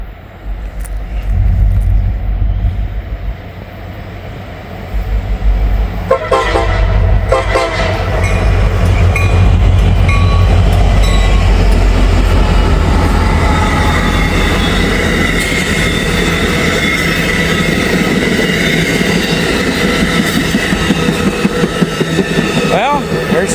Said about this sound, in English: It's got a CSX power in front and it's headed to Avon